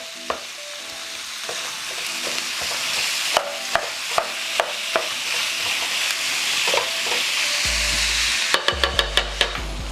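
Ground meat for spaghetti sauce sizzling in a non-stick pan while being broken up, steady frying hiss with repeated sharp scraping and tapping of a utensil against the pan, clustering into quick taps near the end.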